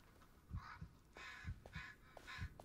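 Heartbeat in the Blair Witch horror game: a faint, steady lub-dub pulse repeats about three times in under three seconds, each low thump paired with a softer second beat over quiet ambience.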